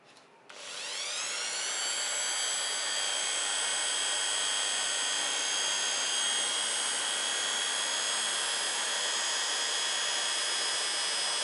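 A Stanley SS30 random orbital sander spins up at speed 1 into a steady, loud, high-pitched motor whine with a bright tonal hum, running alone without pause.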